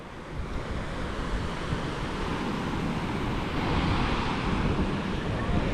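Rough ocean surf rolls onto a Cancún beach under a yellow warning flag, a loud continuous wash of breaking waves with wind buffeting the microphone and swelling slightly toward the end.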